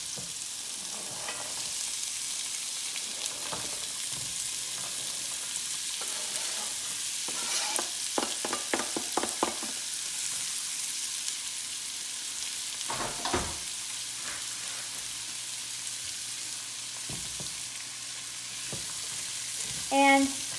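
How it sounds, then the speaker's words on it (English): Chopped vegetables, including onions and carrots, sautéing in canola oil in a heated pan: a continuous close sizzle broken by bursts of stirring and scraping, with a brief louder clatter near the end. "I have my pan heating up with a little bit of canola oil, and I'm going to go ahead and put my chopped vegetables in here"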